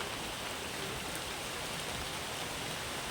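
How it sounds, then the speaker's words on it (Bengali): Heavy rain falls in a dense, unbroken wash of noise, steady and moderately loud throughout with no voices. "দেখো বৃষ্টিটা কেমন হচ্ছে, খুব খুব বৃষ্টি হচ্ছে।"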